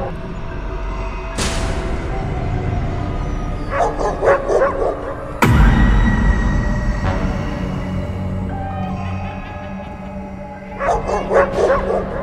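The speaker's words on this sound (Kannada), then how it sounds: "ಗಾಡಿಯನ್ನು ನೋಡಿದ ತಕ್ಷಣ ಊರಿನ ನಾಯಿಗಳು ಜೋರಾಗಿ ಬೊಗಳುತ್ತವೆ" Village dogs bark loudly as a sound effect in a narrated horror story. Two clusters of rapid, yapping barks rise over a dull background, and sharp thuds break in between them.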